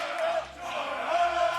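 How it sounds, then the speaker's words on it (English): Crowd at a 2020 LEC Spring Split esports match swelling into a cheer, a dense roar of many voices that dips briefly then rises again under a commentator talking. "and the crowd is starting to erupt."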